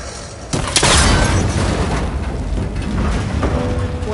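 A cable connector in Horizon Forbidden West bursts apart after being shot, a loud booming crack near the start followed by sustained rumbling debris and mechanical noise that stays dense to the end.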